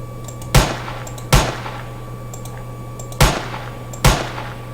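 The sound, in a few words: gunfire from a 3D gun mod in the video game Minecraft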